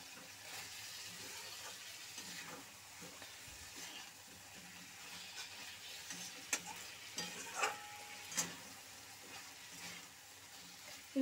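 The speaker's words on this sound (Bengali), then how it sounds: "বন্ধুরা এখনও কিন্তু আমি ভালো করে ভেজে নিচ্ছি কপিটা মশলার সাথে।" Cauliflower fries with spices in a pan, heard as a faint, continuous sizzle with a few quiet scrapes and knocks of a stirring utensil, no voices.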